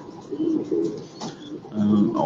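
Soft, low pigeon coos repeating in short throaty bursts, close by in a pigeon loft, with faint voices murmuring in the background.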